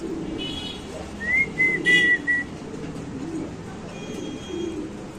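Low, soft cooing of Mundian pigeons runs through the background, while a brief high whistle rises over it near the middle.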